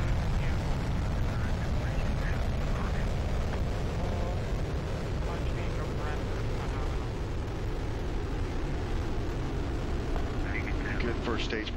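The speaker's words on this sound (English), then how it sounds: "Soyuz 27 rocket and spacecraft carrying Mike Fossum, Satoshi Furukawa, and Sergei Volkov into orbit" Soyuz TMA-02M rocket with four boosters and a single core engine lifting off, a distant broad roaring rumble that holds steady throughout, with a voice talking over it.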